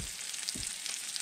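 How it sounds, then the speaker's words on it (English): Diced bacon frying in a pan, a steady close crackling sizzle with a couple of faint low knocks, short and moderately quiet. "I got a couple pieces of bacon I just diced up. Cook those down"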